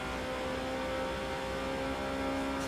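Steady engine drone of a Ferrari race car accelerating during the Italian Grand Prix in the Forza racing game, a continuous whirring roar held at even loudness with no voices over it.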